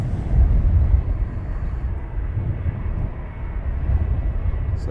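Low, steady jet-engine rumble of a Ryanair airliner taxiing at Luton Airport, heard from a distance as a continuous drone with no voices.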